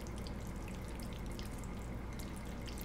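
Pasta in homemade alfredo sauce cooks on low heat with black pepper, giving a quiet, steady bubbling and gentle sizzle with faint crackles throughout, alone and without voices.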